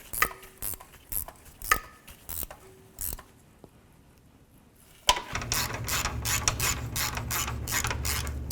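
A ratchet tightens the control arm nuts on a 1998-2002 Honda Accord, giving quick bursts of close clicking strokes with pauses, followed by a denser, louder stretch of rapid ratcheting over a low hum, with no talk.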